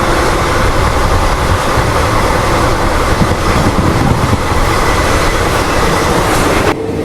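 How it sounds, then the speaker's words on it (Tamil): A Tatanagar–Ernakulam express roars past at close range, a dense, loud wash of wheel and carriage noise that holds steady before cutting off abruptly near the end. "டாடா நகர்ல இருந்து எர்ணாகுளம் போற வண்டிங்க"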